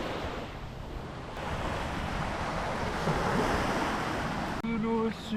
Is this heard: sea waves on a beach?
yes